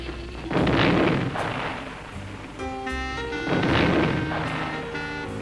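Two heavy booming detonations of explosive charges used for explosive metal forming of vessel heads, each a deep rolling blast a few seconds apart, with a steady tonal hum between them.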